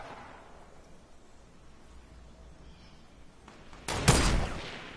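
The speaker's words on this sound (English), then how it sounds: "Oh, I sniped him at the same exact time." A single sharp, loud sniper rifle crack in the Fortnite video game lands near the end, followed by a brief ringing tail after several quiet seconds of low ambience.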